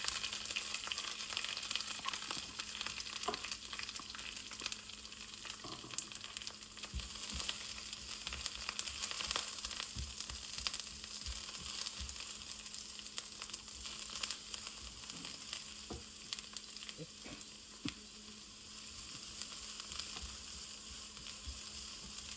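Curry leaves dropped into hot frying oil with chili give a continuous, close hiss and crackle that holds steady and loud throughout, with occasional pops and light stirring.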